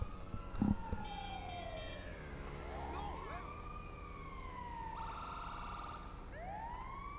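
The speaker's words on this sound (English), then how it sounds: "it's a New South Wales Ambulance Sprinter again by Moose." A New South Wales Ambulance Sprinter siren in a video game, a wailing electronic tone sweeping up and down in shifting patterns, clear and moderately close after a brief knock at the start.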